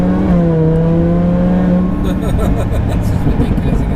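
Supercharged Lamborghini Huracan (VF800 kit) revving up under acceleration from inside the cabin, a steady rising engine tone that turns rougher and busier, loud and continuous beneath people talking.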